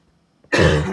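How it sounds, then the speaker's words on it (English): A single sharp, harsh cough or throat clear bursting out after near silence, close and loud. "Why do I keep coughing?"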